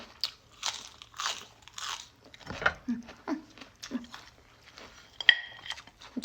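Someone bites and chews a crunchy snack up close, giving a series of crisp crunches in an uneven rhythm, with no talk.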